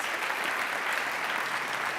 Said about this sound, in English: Give another applause for our Final Four and all Enactus students.